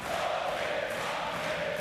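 Basketball arena crowd at a Maccabi Tel Aviv versus Panathinaikos game, cheering and roaring in a continuous, dense wash of voices at fever pitch, loud and sustained throughout.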